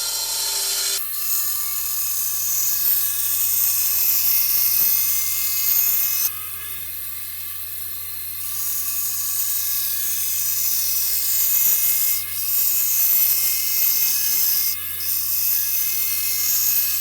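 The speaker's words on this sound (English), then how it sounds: "Okay, we can take that to the bandsaw and cut it out." A bandsaw cuts out a form block for Zenith 701 airplane ribs, whining steadily and loudly with a constant motor hum. The blade load shifts slightly as the cut goes on, and no voices are heard.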